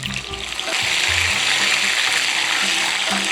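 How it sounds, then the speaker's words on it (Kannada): Ginger garlic paste frying with spices in a hot pan, a loud steady sizzle that swells after a brief start and keeps crackling close up, with soft scraping underneath. "ಶುಂಠಿ ಬೆಳ್ಳುಳ್ಳಿ ಇದೆಯಲ್ಲ ಪೇಸ್ಟ್ ಇದೆಯಲ್ಲ ಅದನ್ನು ಸ್ವಲ್ಪ ಬ್ರೌನ್ ಆಗೋ ಮಟ್ಟನ ಉರಿಬೇಕು"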